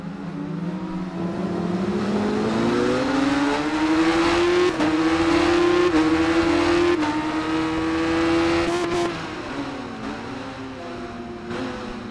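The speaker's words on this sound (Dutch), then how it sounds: "de Yamaha OB2 is wel een hele fijne motor" Yamaha racing motorcycle engine in Ride 5, a sustained loud engine note climbing steadily through the gears, holding high revs, then dropping back near the end, with no talk over it.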